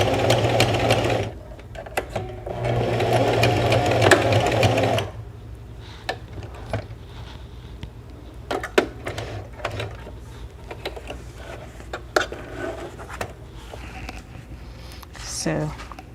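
Domestic sewing machine stitching a fabric slot-pocket wallet, a steady mechanical whir running loud for about four seconds, then quieter scattered clicks, handling and fabric rustles.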